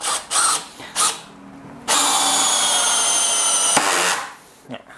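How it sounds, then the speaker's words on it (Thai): A Dewalt DCF601 cordless clutch screwdriver drives a screw into wood, with a few short bursts first and then a steady high whine of about two seconds that stops sharply, close and loud. "อ่าเดี๋ยวลองขันอีกตัวหนึ่งครับ"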